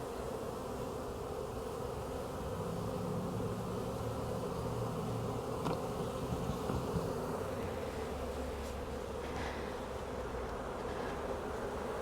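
A honeybee swarm buzzes continuously up close while being moved into a hive, a thick steady drone with no voices.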